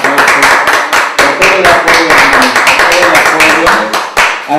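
Loud, close applause from a small audience honoring a music group, dense rapid clapping with distinct individual claps, continuous throughout with no talk.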